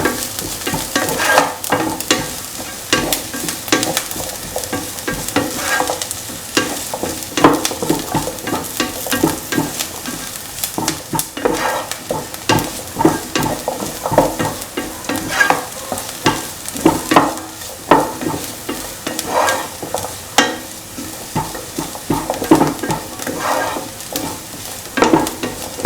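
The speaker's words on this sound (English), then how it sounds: "mix the onions and the shallots until the shallots lose the pinkish color" Onions and shallots with salt fry in a hot pan for a lemon chickpea rice, sizzling steadily and loudly while a utensil stirs and scrapes through them in frequent, uneven strokes, close up and with no talking.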